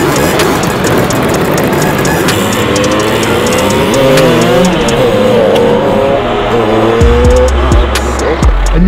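A lowered custom car pulls off toward the street, its engine revving and rising in pitch with some tire noise, loud and close, ending in a heavy low thump.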